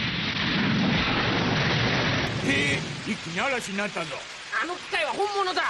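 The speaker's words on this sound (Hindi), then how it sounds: "अब आसमान में बिजली कड़केगी और बारिश आएगी।" A loud cartoon burst of heavy rain with a low thunder rumble fills the opening seconds, then voices start talking over fading background noise.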